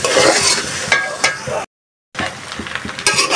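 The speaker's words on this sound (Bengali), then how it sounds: "তেলের মধ্যে একটু নাড়াচাড়া করব।" Mango pickle frying in oil with turmeric, chili and coriander powder while being stirred, a steady close sizzle with scraping strokes of the spoon, briefly cut to silence midway.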